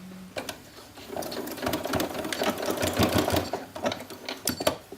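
A sewing machine stitches a dress facing in a fast, steady run of needle clatter, close and loud, easing briefly before picking up again.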